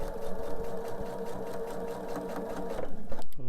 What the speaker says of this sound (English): I'm going to sew nice and slow